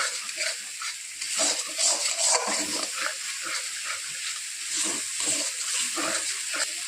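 Spice paste frying with a splash of water in a pan for a Bombay duck fish curry, a bright, hissing sizzle with stirring scrapes, steady and close, with no talk.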